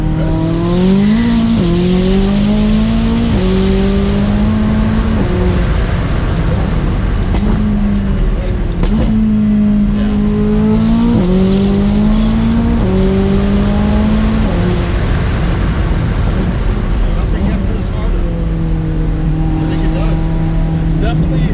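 Lamborghini Huracán Performante engine revving hard through rising gear pulls while a passenger rides along, loud and steady for the full stretch with people talking over it.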